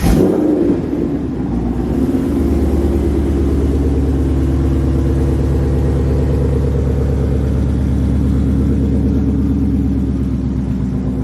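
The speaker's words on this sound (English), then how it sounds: "Man, this car sounds so nasty" A Mustang 5.0 rumbles loud and close after a new O2 sensor is fitted. A rough start gives way to a steady, deep idle with a throbbing exhaust note that holds for about ten seconds, with no talking.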